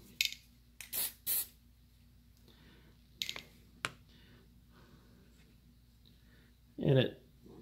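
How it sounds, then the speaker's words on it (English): Short hissing bursts of dull coat clear finish from a spray can over painted plastic, several quick sprays with pauses between them, fairly close and otherwise quiet. "I'll just take a little dull coat and just spray over the top of it."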